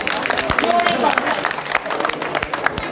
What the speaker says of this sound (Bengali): আমরা জোরে করতালি দিব ওনাদের সম্মানার্থে জোরে করতালি